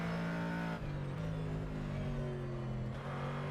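A Corvette GT3 race car in the rFactor 2 racing game drones at high revs, its engine tone shifting pitch as it lifts and re-accelerates through a corner at Indy, loud and continuous with no talk.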